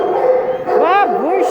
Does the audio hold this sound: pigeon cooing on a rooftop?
no